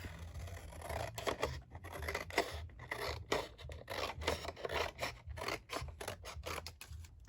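Scissors snip through chipboard while trimming the sides of a mini album base, a quick run of close, crisp cuts and rasping blade strokes repeating throughout.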